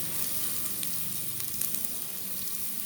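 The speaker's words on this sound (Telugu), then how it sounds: "అవి కూడా వేసి మనకి కొంచెం అరోమా అంతా బయటకు వచ్చే వరకు ఒక 2 minutes ఫ్రై చేసుకుంటే సరిపోతుంది" Mint and coriander leaves frying in a pan with chilies, onion and carrot pieces for a meal maker pulav, a steady close sizzle running throughout with faint stirring clinks.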